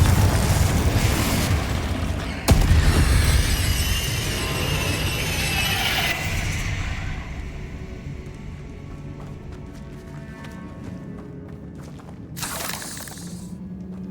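The Confringo spell going off in a Harry Potter video game: a loud blast, then debris crashing and crackling that slowly fades, with a smaller burst near the end.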